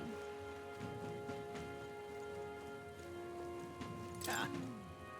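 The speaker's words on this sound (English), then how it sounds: "It's raining." Steady rain in the video game Metaphor: ReFantazio patters and hisses throughout, with a sustained tonal hum and a brief sweeping whoosh near the end; no clear words are spoken.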